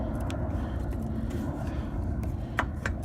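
A 1997 Murray lawnmower engine with oil blow-by from the breather idles steadily in a low, continuous rumble, heard fairly near, with a few faint clicks and no talking.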